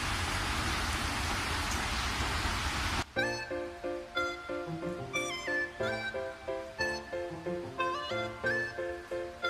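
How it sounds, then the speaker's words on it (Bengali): Heavy rain pours outside for roughly the first three seconds as a loud, steady, dense hiss, then music abruptly takes over for the rest. "মুষলধারায় বৃষ্টি হচ্ছে।"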